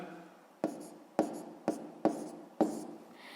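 Writing out a math exercise produces five sharp strokes or taps of a pen on paper, each with a brief scratch, spaced about half a second apart and heard close and alone.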